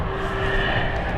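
Jet engine on an Embraer spooling up at London City Airport, a steady broadband roar with a faint rising whine, heard alone at moderate distance.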